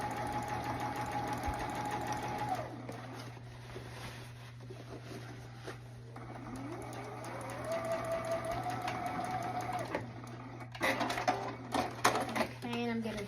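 Juki sewing machine stitching a heavy denim jacket on its table: a steady mechanical whir over a constant low hum, with speed changes and a louder rattling burst near the end.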